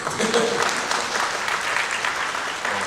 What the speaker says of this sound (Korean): 박수 치셔도